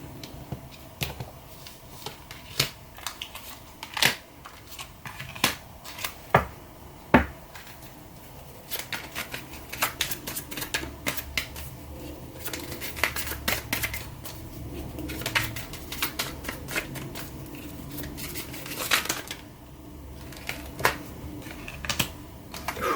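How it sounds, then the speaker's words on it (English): Tarot cards being pulled out and shuffled up close, a run of crisp, irregular clicks and soft riffling snaps with no talking. "Thank you for being patient with me, guys, as I get these cards out."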